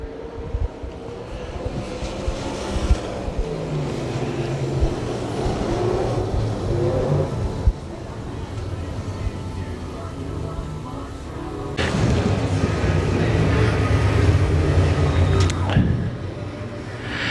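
604 crate late model race cars run on the Dixie Speedway track during a practice session, a continuous broadband engine roar that swells and surges louder toward the end, with possible voices mixed in.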